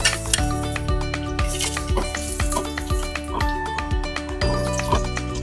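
Onion sautés in a pan with a steady sizzle, while a metal utensil stirs it in repeated clinking, scraping strokes against the pan.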